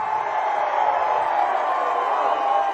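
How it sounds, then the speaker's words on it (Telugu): At a TDP political rally in Gurazala, a large crowd roars in sustained cheering, a dense, steady wash of voices and applause that holds at an even level without pause. "అవును అంటే గట్టిగా చప్పట్లు కొట్టి"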